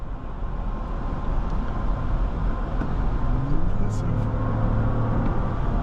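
Steady interior drone of a 2024 Lexus GX 550 Premium SUV accelerating hard, road and engine noise rising slightly in pitch, with a person talking over it throughout.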